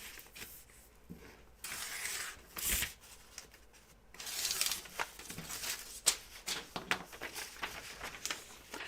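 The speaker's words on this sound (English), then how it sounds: "just going to fold this. Get rid of some of this paper." Sewing pattern paper is folded and torn away while cutting out a flight suit, giving steady crinkling, rustling and ripping bursts of varying loudness, close by and continuous, with no talking.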